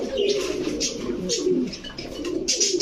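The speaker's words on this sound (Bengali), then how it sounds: "দর্শক আমরা কবুতরের অ্যাক্টিভিটিসটা দেখাচ্ছি আপনাদের" Pigeons, including Lalpatti, Budapest, Rampuri and Beauty breeds, coo in low, rolling calls, several overlapping nearby, with occasional wing flutters and brief chirps above them.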